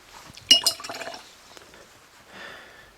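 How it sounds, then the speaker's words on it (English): A paintbrush used for gouache is dipped and swished in a water jar: a bright glassy clink, then a quick run of small clinks and watery splashes, with a softer swirl of water later. The sounds are close and there is no talk. "You have to kind of always dip the brush in water."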